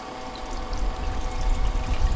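Water rushes steadily through a gold recovery device processing Snake River paydirt, a continuous close pour that swells slightly louder as the flow is turned up.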